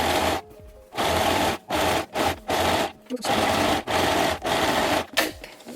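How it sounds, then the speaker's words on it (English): A sewing machine stitches fabric for a bucket hat, running in short close bursts of steady whirring with brief pauses between each run. "Follow the previous line of threads and go. Check that it's sewing."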